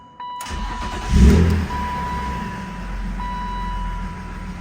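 A BMW E36 M3 engine cranks briefly and catches, then settles into a steady, close idle hum after the initial burst of startup noise.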